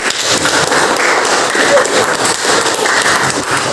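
Applause for a group, a dense, fairly loud crowd of hands clapping steadily in a room for a few seconds without letup.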